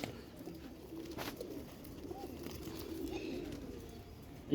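Domestic pigeons in a keeper's collection, including males, coo in a steady, low, overlapping murmur that carries through the whole stretch at moderate loudness with no one talking.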